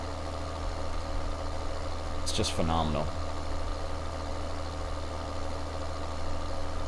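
A tractor engine idles in the Farming Simulator 2013 video game, a steady low mechanical hum running throughout while someone briefly speaks over it.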